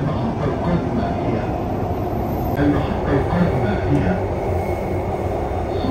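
Dubai Metro train running, a steady, dense low rumble and rolling rail noise filling the carriage from inside, continuous and loud throughout.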